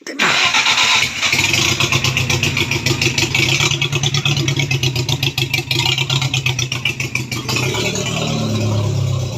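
A BMW 316 turbo engine cranking, catching and revving under throttle blips, loud and close, with a rough rapid pulsing roar that holds high before dropping toward idle near the end.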